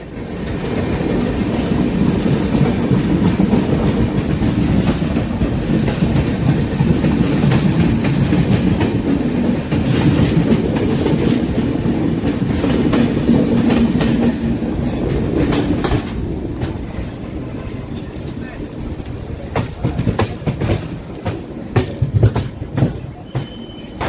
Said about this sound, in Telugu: ముంబై ఛత్రపతి శివాజీ మహారాజ్ టెర్మినల్స్ నుండి భువనేశ్వర్ వెళ్ళే కోనార్క్ ఎక్స్ప్రెస్